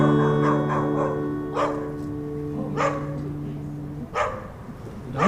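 A dog barks several times at an outdoor patio Shabbat service, short sharp yips spread across the clip over a sustained sung or chanted tone with a faint murmur of voices.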